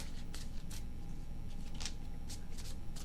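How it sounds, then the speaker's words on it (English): A deck of tarot cards gets riffled in short repeated bursts, a handful of crisp flicks spread evenly over a constant background hiss, with no voices. "2, last shuffle."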